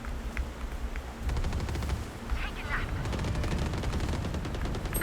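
Bursts of rapid Valorant gunfire crackle over a steady low rumble, with voices talking alongside the shots.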